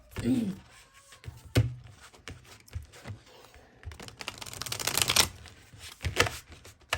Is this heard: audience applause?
no